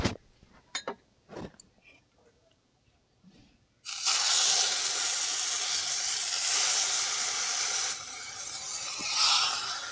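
Rohu fish paturi wrapped in pumpkin leaves goes into a wok: a few light clicks and knocks, then a loud, sustained hissing sizzle erupts and carries on to the end.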